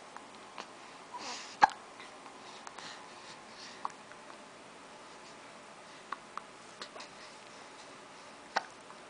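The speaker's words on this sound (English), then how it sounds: "you don't like the hiccups" A child hiccups once, sharp and sudden, in a quiet indoor room, with a few faint ticks and small clicks scattered before and after.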